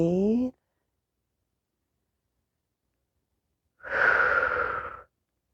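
A person breathing during a yoga flow: a short voiced exhale at the start, a long silence, then one long audible breath of about a second, close and clear.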